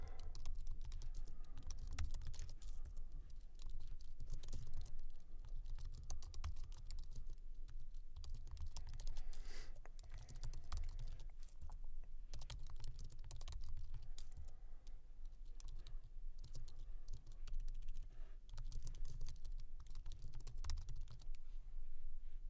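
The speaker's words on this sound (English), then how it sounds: "now we're going to do the tedious task of typing these out" Steady typing on a computer keyboard runs for over twenty seconds, dense continuous key clatter close to the listener with brief pauses and no voices.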